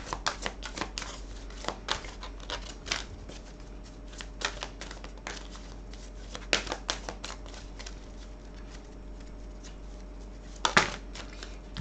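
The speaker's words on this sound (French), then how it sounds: "On va prendre le jeu de cartes en entier" A full deck of cards is handled and shuffled at a table during a card reading, giving close, dry bursts of riffling and flicking in irregular clusters over a faint steady hum, with no talking.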